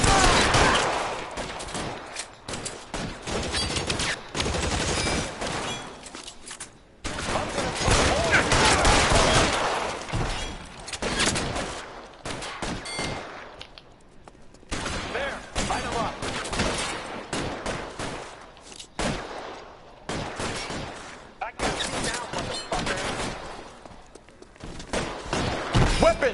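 Shootout in the video game L.A. Noire: loud bursts of rapid gunfire come in volleys separated by brief lulls, with voices heard faintly amid the shooting.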